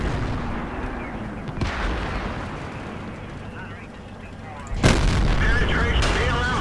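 Tank gun firing in World of Tanks, a heavy boom near the end with rumbling game noise throughout and a weaker shot earlier; someone talks over it.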